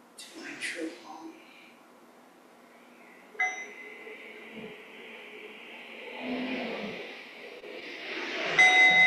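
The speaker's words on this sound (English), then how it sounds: "the sound of the bell brings me back to my true home." A meditation bell is struck once and its clear tone rings on with a long, slowly fading sustain beneath a calm speaking voice.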